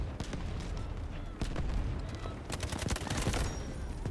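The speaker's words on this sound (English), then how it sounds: "I can hear lots of gunfire going on everywhere." Dense video game gunfire crackles throughout, with rapid bursts and scattered shots blending into a continuous battle din, some volleys louder and closer than others.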